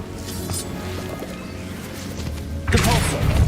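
In Hogwarts Legacy, the Bombarda spell erupts after a low rumbling stretch, ending in a sudden loud crashing blast with splintering, debris-like crackle close by.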